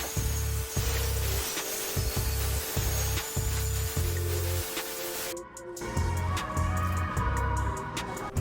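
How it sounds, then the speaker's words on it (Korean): Brush scrubbing foam-covered crevices, grille and emblem surround on a Kia Ray, a series of close rhythmic rubbing strokes that give way to a brief spray hiss before scrubbing resumes. "폼이 도장면에 남아있는 동안 틈새 부분들을 브러쉬로 세정해 주었어요."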